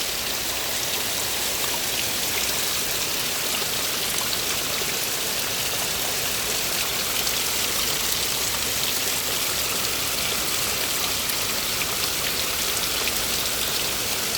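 Heavy rain pours steadily over Rangpur village, a dense unbroken hiss and patter that stays loud and even throughout, with no voices.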